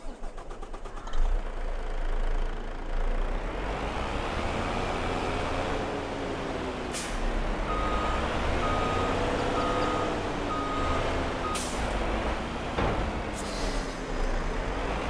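Farming Simulator 22 truck engine drones steadily throughout, with repeated reversing beeps pulsing in a regular rhythm partway through and brief hissing bursts like air brakes, no talking.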